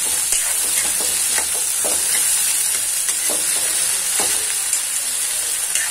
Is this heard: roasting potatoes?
yes